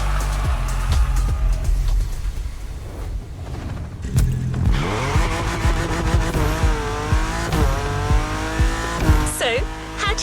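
Modded Liberty Walk LBWK BMW M4 racing in The Crew Motorfest, loud engine revving with gear shifts and rising pitch sweeps, tire squeal bursts, and a voice speaking over the game audio.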